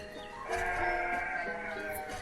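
Sheep and lambs bleat in the farming video game Banished, a few wavering, nasal calls overlapping at moderate volume against a quiet game background, with no talking.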